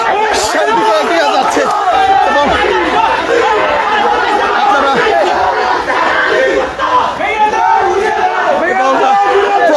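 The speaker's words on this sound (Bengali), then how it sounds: "প্রথম আলোর সামনে এসে স্লোগান দিচ্ছেন বিক্ষুব্ধ ছাত্র জনতা" A large crowd of angry students and other protesters chants slogans outside the Prothom Alo newspaper office, with loud massed voices shouting continuously and a dense babble of overlapping shouts throughout.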